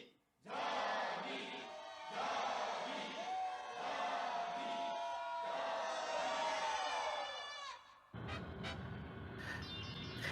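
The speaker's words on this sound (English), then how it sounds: "It's not even people cheering, just people yelling." A crowd of people yelling in a Mobile Suit Gundam episode, a loud roar of many raised voices in surging waves for several seconds, then cut off abruptly and followed by brief sharp clatters.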